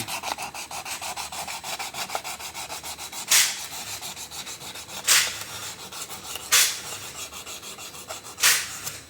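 Rhythmic scraping and rubbing on Mk2 Supra engine head parts being cleaned, steady strokes with several louder, sharper scrapes standing out, close and alone without talk.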